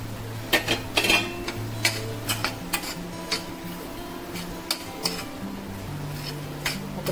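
Crumbled leftover roti goes into a pan over low heat with chutney and onions. Light, scattered clinks and taps of a utensil against the pan sound close and quiet, and no one speaks.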